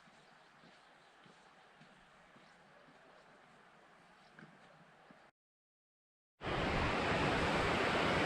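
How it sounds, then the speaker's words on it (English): Rushing roar of Taylorgill waterfall in the Lake District, at first distant and soft, then after a brief gap a loud, close, broadband torrent of falling water. "here we are, and here's the waterfall"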